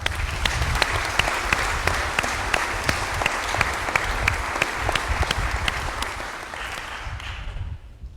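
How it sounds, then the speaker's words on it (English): Audience applause fills a change of command ceremony for the New Orleans District, a steady dense clapping that holds for several seconds near the microphone, then thins and fades away at the end without any voices. "Please join me in another round of applause for the New Orleans District."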